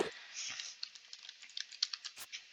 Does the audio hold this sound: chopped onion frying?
no